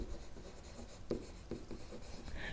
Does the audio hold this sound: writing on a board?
yes